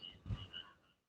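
Frogs croak faintly in the dark around the stairs of an old wood factory in Pasuruan, with a few low throaty croaks over a thin high chirring background, quiet and far off.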